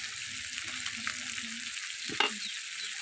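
Small fish coated in turmeric and chili fry in a pan, a steady close sizzle with a brief stirring scrape partway through and no talking.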